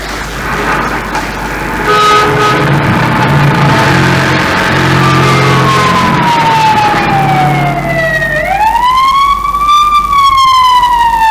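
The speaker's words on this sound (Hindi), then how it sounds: "सभी लोग बस एक टक उस सायरन वाली लाल बत्ती वाली गाड़ी को देख रहे।" Siren of an emergency vehicle with a red light, its loud wailing tone sweeping down and back up over steady traffic noise and rumble.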